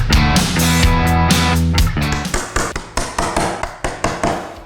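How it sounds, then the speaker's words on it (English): A chisel strikes wood while corners are cut out for door hinges, first under a loud droning tone and then as a string of sharp, evenly spaced taps, close and distinct. "chisel out the last couple of corners and hang the door"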